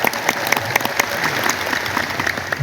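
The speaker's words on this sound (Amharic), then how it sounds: "ካጨበጨባችሁ በደንብ አጨብጭቡ ወይ ተው።" A crowd at Meskel Square claps loudly and steadily, dense continuous applause filling the whole moment.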